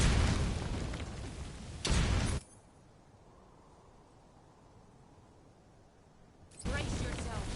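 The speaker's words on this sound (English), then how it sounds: "Grenade!" Grenade blast in Metal Gear Solid 3 Delta: loud, broadband roaring bursts open the moment and cut off sharply, leaving a low rumble before another heavy blast returns near the end.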